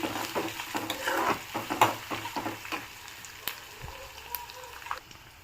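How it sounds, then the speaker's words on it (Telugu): Dried red chillies fry in hot oil in a pan while being stirred, a steady close sizzle broken by sharp scraping and clattering strokes that thin out toward the end, with no talk. "ఎండుమిర్చి వేసుకుందాము కొంచెం బాగా బ్రౌన్ కలర్లో ఫ్రై అవ్వాలి"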